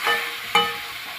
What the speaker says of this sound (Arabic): نفس الطاسة ونفس الزيت، انزل بالبصلة.